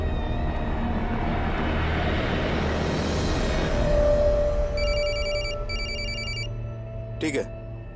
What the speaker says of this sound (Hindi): सर, चेतन का फोन था, उसका पता चल गया।